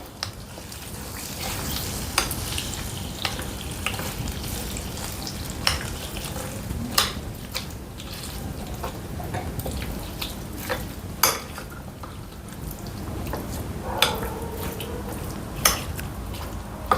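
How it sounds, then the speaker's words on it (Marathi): A spoon stirs a sizzling tadka of curry leaves, cashews and raisins into Karnataka-style curd rice in a pan. Soft frying crackle runs throughout, with scraping and sharp metal clinks against the pan at irregular moments. "तर आता आपण याच्यामध्ये हा तडका मारूया."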